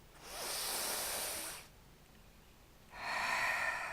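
Two long, close breaths during a Dahn Yoga energy exercise: a hissing inhale of over a second, a short pause, then a second breath starting near the end, clear and unaccompanied by talk.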